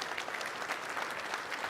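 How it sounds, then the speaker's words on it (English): An audience at a corporate foundation day celebration claps in a steady, even wash of applause that sounds moderately distant and sustained throughout. "please clap for yourself"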